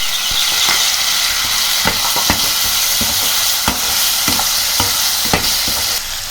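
Chopped tomato tossed into a pan of frying jackfruit greens and potato, giving a steady loud sizzle with scattered sharp stirring scrapes and clatters throughout.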